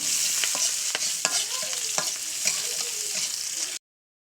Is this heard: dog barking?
no